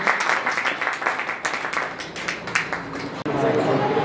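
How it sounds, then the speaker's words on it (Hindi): An audience at a Hindi poetry gathering, a kavi sammelan, applauds loudly for the poet Mahesh, dense clapping that swells and then fades as a voice rises over it near the end. "एक बार जोरदार ताली से महेश जी"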